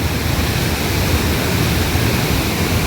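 Steady, dense rush of falling water from a little-known waterfall on a forest stream in Kannur, fed by several small streams, loud and unbroken throughout with no voices.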